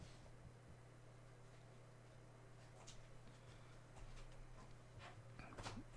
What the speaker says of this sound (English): So let's switch over to Puppy Cam and say hello to Kaylee